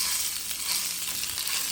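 Chorizo sizzles and fries steadily in a pan, a dense, even crackle of hot fat that holds close and constant throughout with no pauses.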